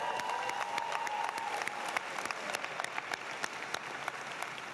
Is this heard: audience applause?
yes